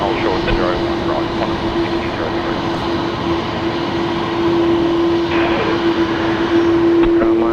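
An Airbus A330 at Brisbane Airport gives off a loud, continuous engine roar with a steady droning hum running through it, while people talk faintly in the background.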